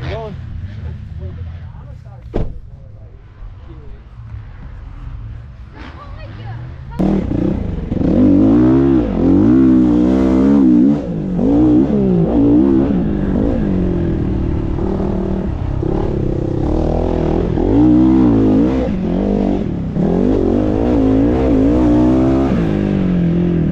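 GPX dirt bike engine revving hard as it is ridden, a loud, close, continuous roar that rises and falls with throttle after a quieter idle, with a voice talking over it.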